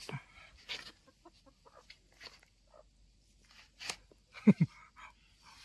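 A rural chicken clucks in short scattered bursts, faint at first and then louder and closer near the end, with no talking.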